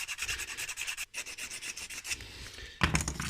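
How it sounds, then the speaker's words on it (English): A hand file scraping a robot part, steady rhythmic rubbing strokes close up, with a brief pause near the middle and a heavier burst toward the end, no voices. "I will switch to the file."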